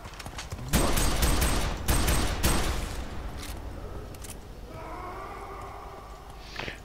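Enemy gunfire in the shooter game F.E.A.R. 3: a few loud, rapid bursts of shots in the first few seconds, then fading rumble and a low, eerie tonal drone.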